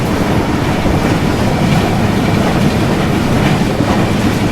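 A KR Rocket superfast express train runs on rails near the Gangavali river at Ankola, giving a loud, close, continuous rolling rumble with steady wheel clatter throughout.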